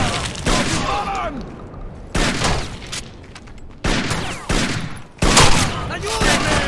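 Rapid bursts of gunfire in the Rainbow Six Vegas shooter, loud and close, arriving in several separate volleys with short lulls between them, while voices shout over the action.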